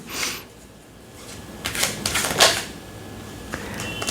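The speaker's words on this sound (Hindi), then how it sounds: "जब यहाँ पर कार्ड शफल कर रहा हूँ" Tarot cards are shuffled by hand in a few short, papery riffling bursts close by, with quiet pauses between them.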